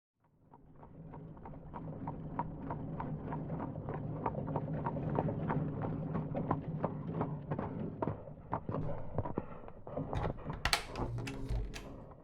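Horse-drawn carriage with hooves clip-clopping in a steady rhythm at moderate distance. The sound builds, runs evenly, then turns into sharper knocks and clatter near the end.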